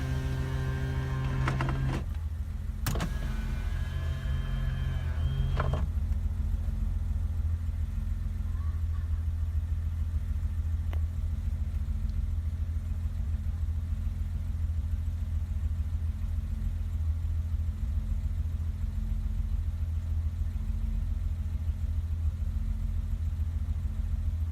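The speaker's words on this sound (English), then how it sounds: "She just idles like she should." A 1988 BMW 325 sedan, just after a cold start, idles with a steady low engine drone that holds even throughout. A few brief mechanical clicks and a short tonal whir come at the very start.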